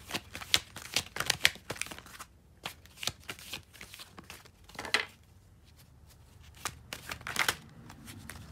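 Tarot cards are shuffled by hand in quiet, brisk riffling bursts separated by short pauses, close and soft, with no talking.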